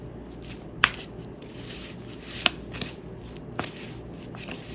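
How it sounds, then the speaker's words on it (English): Egg yolk is folded into a crab imperial mixture on a paper plate, giving soft wet squishing sounds with a few sharp clicks of the utensil, quiet and sparse, no talking. "what's next? That's right, the egg yolk. So we'll mix that in there too."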